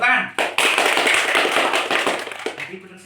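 A school classroom bursts into applause: a dense, loud wash of many hands clapping together for a few seconds, then fading as a teacher's voice resumes.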